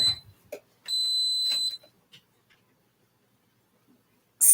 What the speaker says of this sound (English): that beeping is the rice cooker